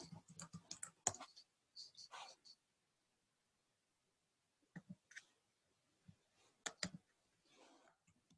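Quick bursts of computer keyboard typing, clustered taps and clicks at the start and again later, close and fairly quiet with silent pauses between runs.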